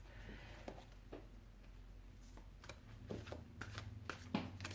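A deck of tarot cards is shuffled close by, with soft riffling and repeated flicking taps that grow busier toward the end, fairly quiet overall.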